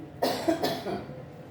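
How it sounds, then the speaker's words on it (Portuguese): Two close, harsh coughs in quick succession, followed by a raspy breathy tail, with no talking. "eu fico tossindo e minha respiração fica ofegante"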